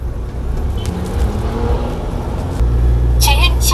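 A car's engine rises under acceleration during a driving licence test, a steady low rumble that swells and grows louder partway through, with brief higher noises near the end.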